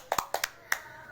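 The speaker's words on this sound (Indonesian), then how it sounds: "Give applause." A few scattered hand claps from students in a classroom, about five sharp, quiet claps at an uneven rhythm over roughly a second, with no talk.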